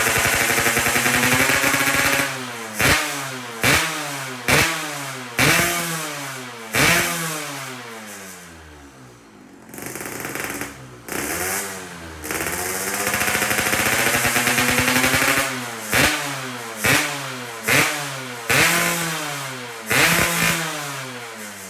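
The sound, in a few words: rebuilt Yamaha RX-King motorcycle engine revving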